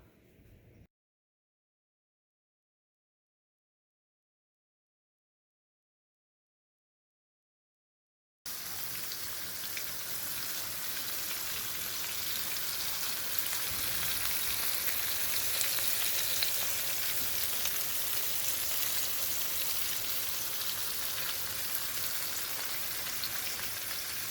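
Stuffed chicken marsala cooking in a pan gives a steady, dense sizzle and crackle of frying after a brief quiet start and a long silent gap, holding at an even level to the end with no voices.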